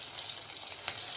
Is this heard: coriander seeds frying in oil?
yes